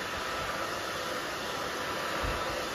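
A hair dryer blows steadily at close range, a constant rushing whoosh while short pixie-cut hair is dried against its natural growth direction.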